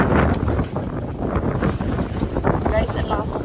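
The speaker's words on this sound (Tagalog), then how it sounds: "ang lakas ng hangin" Strong wind at a campsite roars and buffets the microphone in continuous loud gusts, with voices faintly mixed in underneath.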